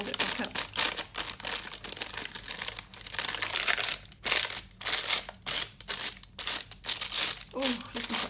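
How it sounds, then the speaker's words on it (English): Paper is scrunched up by hand for a craft project and torn slightly at one point, giving close, crackly bursts of crinkling in uneven bursts separated by brief pauses. "scrunch it up, excuse me for the sound, just to make it a little bit older."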